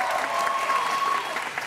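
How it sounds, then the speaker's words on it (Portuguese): Short burst of studio audience applause on a TV comedy show, a dense, continuous wash of clapping with a faint whistle-like tone running through it. "Salva de palmas pra ela!"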